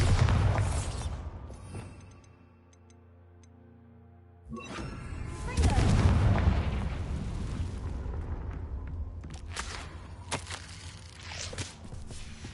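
In Hogwarts Legacy, a Bombarda spell blast goes off as a loud crash after a quiet stretch, then a long rumbling roar and scattered debris clatter trailing off.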